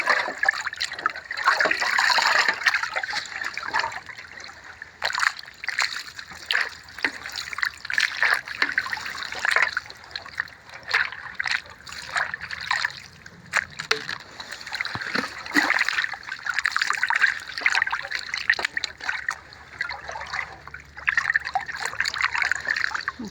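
Cloudy rinse water pours and trickles steadily out while something is washed, a close, continuous splashing dribble with small splatters throughout and no voices.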